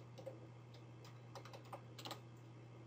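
Faint keystrokes on a computer keyboard, a few scattered taps then a quick cluster of presses, heard over a steady low electrical hum.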